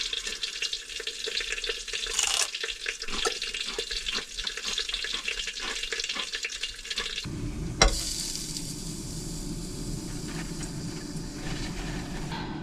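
Bacon frying in a pan on a camp stove while camping, a close crackling sizzle with stirring clatter and scraping, shifting partway through into a broader hiss and rustle.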